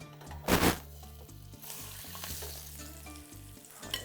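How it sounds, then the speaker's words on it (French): Quails browning in very hot olive oil, a steady loud sizzle and crackle with a sharp burst early on, close by and with no voices. "Dans l'huile d'olive que je chauffe, peut-être un peu trop, je vais faire dorer les cailles."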